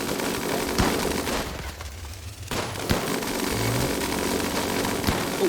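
Gunfire erupts in a RimWorld colony battle as raiders shoot at a grenadier: sharp cracking shots punctuate a dense, continuous rattle of combat noise, briefly thinning near the middle before resuming.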